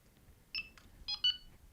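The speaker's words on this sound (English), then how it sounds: "I can adjust how many beeps I get for a certain amount of movement" A few short electronic beeps in quick bursts from a Delkim fishing bite alarm, fairly quiet over a low background hum, with pauses between them.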